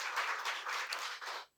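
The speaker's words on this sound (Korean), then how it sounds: "박수 쳐주세요." Church audience at a Friday worship gathering clapping together, a dense sustained burst of applause with a few louder swells, ending abruptly after about a second and a half.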